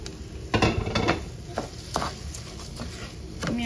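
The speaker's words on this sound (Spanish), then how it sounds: "Tengo 2 tazas de arroz ya lavadas y vamos a dejar que esto se sofría muy bien," Two cups of washed rice are sautéed in a pot until golden, with a soft sizzle under clattering metal utensil stirs and scrapes against the pot.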